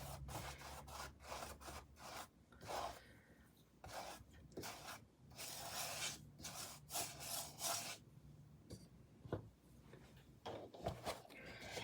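A brush spreads varnish over a wooden piece in repeated soft, close rubbing strokes, each a brief swish separated by short pauses, with no voices.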